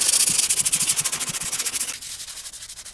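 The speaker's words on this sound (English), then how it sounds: "Switching to sandpaper to remove the next rust layer." Sandpaper rubbed back and forth over a rusty steel hewing axe head, a steady rhythmic scratchy rasp of quick strokes, close and clear with no voices.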